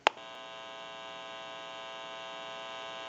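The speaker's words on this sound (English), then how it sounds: "You may hear a little bit of an electrical hum." A steady electrical hum from a Western Electric 554 rotary telephone drones evenly throughout, beginning with a brief click and staying constant and fairly quiet.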